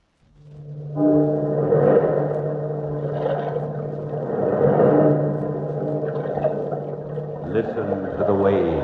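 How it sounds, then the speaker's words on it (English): Ocean waves in a vintage horror radio drama, a low rolling, surging wash that swells and recedes steadily, with a tolling, droning tone layered over it and a voice speaking above. "Listen to the waves."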